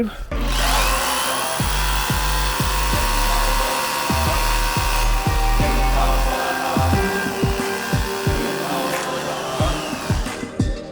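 A RONIX 8910K cordless rotary hammer with an 8 mm bit whines steadily and loudly, with a rhythmic hammering pulse throughout as it bores into brick, close up.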